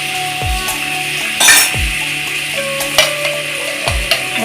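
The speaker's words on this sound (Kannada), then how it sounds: "ಮೊದಲಿಗೆ ಬಾಣಲಿಗೆ ಸ್ವಲ್ಪ ಬಟರ್ ಹಾಕ್ಕೊಳ್ಳೋಣ" A spoonful of butter heating in a frying pan, a soft steady sizzle under several sharp metallic taps and clinks of a spoon against the pan, with no one speaking.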